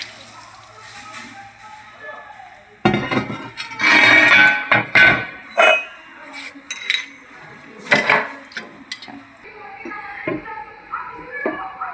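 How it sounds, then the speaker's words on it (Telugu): Dishes and utensils being washed in a sink during cast iron cleaning, with clattering metal clinks, scraping and splashing water in loud irregular bursts. "అలాగే అన్నీ కడిగేసుకుందాం."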